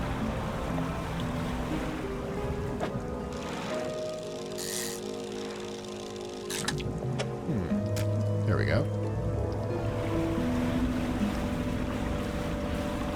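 A boat engine hums and drones beneath lapping waves and wind in the fishing video game Dredge, running steadily throughout, while someone talks briefly over it.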